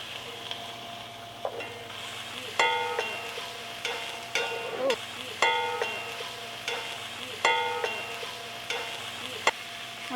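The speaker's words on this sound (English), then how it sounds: "we're just going to fry this until our meat becomes golden brown" Meat frying in a pan, with steady sizzling under repeated stirring and scraping sounds, several sharper clinks of utensil against the pan recurring every couple of seconds, close and moderately loud, no talking.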